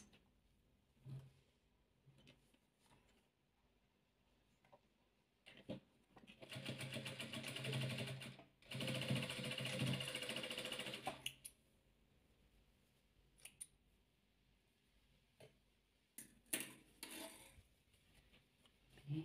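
A sewing machine stitching together fabric panels of a soft 3D ball, with a steady whirring run in the middle, quiet handling clicks and rustles before and after, and no talk.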